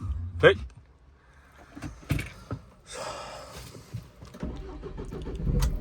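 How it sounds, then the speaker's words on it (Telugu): A car engine cranks and catches, with a door clunk and some rattling near the start and a low idle building toward the end, while people talk over it. "స్టార్ట్ అయింది బండి"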